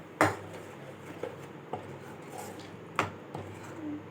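A spoon clinks against a pan while paneer masala is stirred, a few sharp metallic taps spaced over a quiet simmer background.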